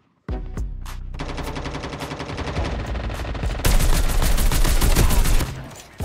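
Gunfire rings out in a battle-royale video game's final-zone fight, with a dense rapid burst of shots that grows louder and keeps up for several seconds before fading.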